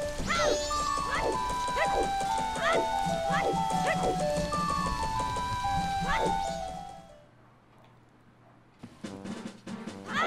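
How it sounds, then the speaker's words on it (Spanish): Rain in the Nintendo 64 game The Legend of Zelda: Majora's Mask, a steady wash of falling drops running under chiming musical notes and sharp game effects, then thinning to a quiet lull before picking up again faintly near the end. "Siempre está lloviendo."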